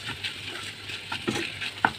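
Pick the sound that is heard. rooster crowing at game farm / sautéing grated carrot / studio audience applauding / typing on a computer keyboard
sautéing grated carrot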